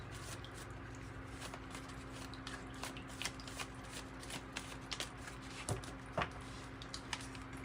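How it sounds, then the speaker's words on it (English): Old tarot cards shuffled by hand during a reading, a soft papery riffle and patter with a few sharper flicks near the end, steady and close over a low background hum. "I think you have to shuffle them like this to get cards out."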